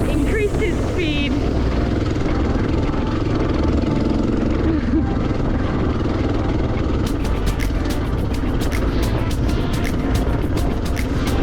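A 650cc motorcycle engine drones continuously while riding a rough road in East Timor, loud and close, with wind and a run of sharp rattling clicks in the last few seconds.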